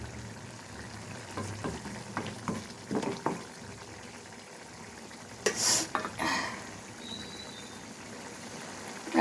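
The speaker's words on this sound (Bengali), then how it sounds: "ভুনা করছি" Shrimp bhuna cooks in a pan after a splash of water, giving a faint, soft sizzle and bubbling with a few clinks of stirring and a brief louder hiss midway.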